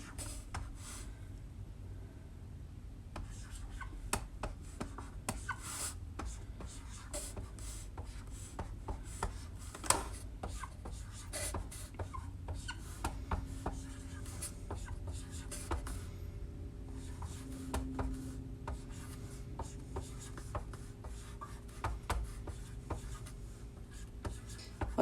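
A teacher writes math facts by hand, the soft scratchy strokes of a pen or marker continuing in quiet, irregular bursts at close range with no talking.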